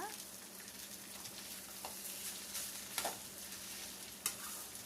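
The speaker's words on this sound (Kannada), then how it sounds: "ಮಿಕ್ಸ್ ಮಾಡ್ಕೊತಾ ಇದ್ದೀನಿ" Curd rice with dried red chillies is mixed in a pan, giving a quiet, steady sizzle with a few soft scraping stirs near the end and no speech.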